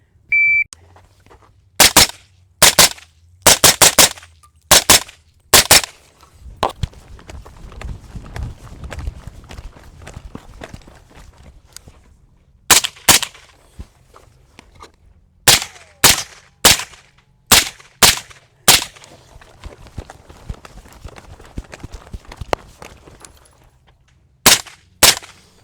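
Suppressed shots from a Sig Sauer 556 rifle crack out in sharp, loud bursts, several quick shots at a time, with short quiet pauses between strings and a brief stretch of muffled handling noise midway.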